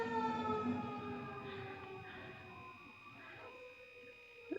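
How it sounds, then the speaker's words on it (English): Wailing sirens outside, long sustained rising and falling tones heard from a distance, fading slightly over a few seconds with a faint voice in the background. "Sirens going on."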